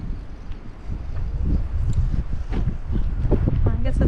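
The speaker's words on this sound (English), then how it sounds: "I guess it's getting a little windy and chilly here." Gusty wind buffets the microphone outdoors in Pine Grove Furnace State Park, with low rumbling blasts, while a person talks briefly near the end.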